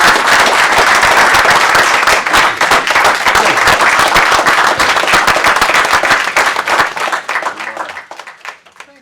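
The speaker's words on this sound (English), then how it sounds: "I think that we deserve to give him a hand of applause." Loud, sustained applause fills the room at a county commissioners meeting, a dense wash of many hands clapping close by that keeps up for several seconds before thinning out and tapering off at the end.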